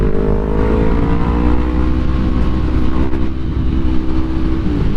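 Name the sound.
Yamaha MT-03 motorcycle engine revving while riding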